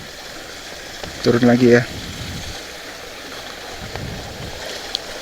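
Water streams steadily from the Bogowonto River headwater spring on the slopes of Mount Sumbing in the dry season, flowing toward irrigation channels and a holding basin. The constant broadband rush runs throughout, with a brief spoken remark over it.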